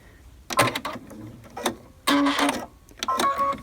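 Sewing machine stitching appliqué letters onto cuddle fabric, three short bursts of rapid mechanical whirring and ticking with quiet pauses between, close by, with no talk.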